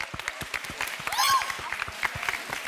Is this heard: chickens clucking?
no